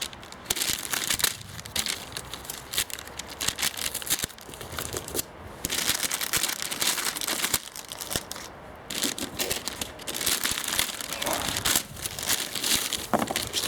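Packaging for engine adapter plate parts, with bolts and spacers, being unwrapped and crumpled close up, a steady run of rustling, crinkling and tearing with brief pauses and no talk.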